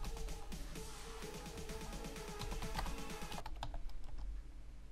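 Fingers type a command on a computer keyboard in quick, steady clicks that continue for several seconds and then thin out to a few scattered keystrokes, with no talking.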